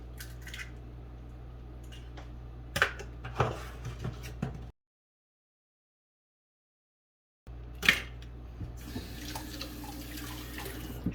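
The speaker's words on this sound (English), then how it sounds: "Wash the egg off your hands so you don't get salmonella." Tap water runs steadily at a kitchen sink while egg is rinsed off hands, broken by a few sharp clicks and clatters and a silent gap in the middle, with no voices.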